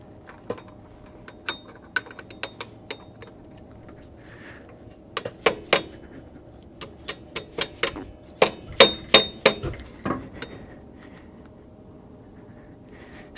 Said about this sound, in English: So we'll start it with the dead blow hammer, and then we'll put it the rest of the way with the brass hammer.